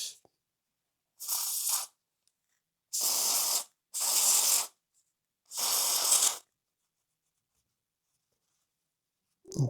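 Contact cleaner sprayed from an aerosol can onto an HO scale Lima Class 4F model locomotive: four short hissing bursts, each about a second long, separated by quiet pauses, close and fairly loud.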